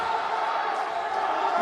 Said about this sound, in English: the crowd is going wild over here as they scream, "Go Akbar, go!"